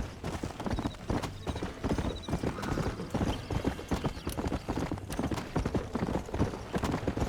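Steady clip-clop of horse hooves at a brisk, even rhythm in the video game Red Dead Redemption, fairly close, with a faint whinny and some background voices.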